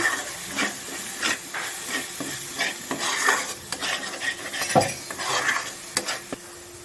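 Spices with fiery green chillies sizzling in a pan for chole, stirred steadily so a spoon scrapes and clicks against the metal over a soft, continuous fry hiss; close and moderately loud, with no talking.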